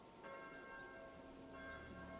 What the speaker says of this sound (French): c'est simplement la cloche d'une église qui sonne l'Angélus